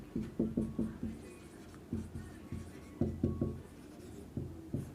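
Chalk or marker writing on a board in a coding-decoding reasoning class, clusters of quick tapping strokes and scratches close by, in short bursts separated by pauses, without talk.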